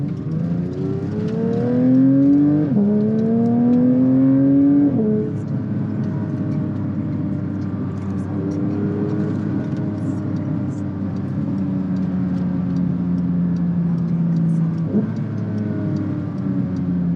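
A Porsche 911 GT3 Touring engine revs up and drops back several times in the first few seconds, then holds a steady, loud drone at lower revs.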